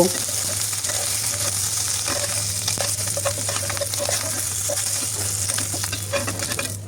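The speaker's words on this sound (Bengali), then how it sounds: "মাছগুলো ভাজা হয়ে গেছে" Small chapila river fish fry in hot oil, giving a steady, even sizzle with a low hum beneath and light scattered pops, continuous throughout.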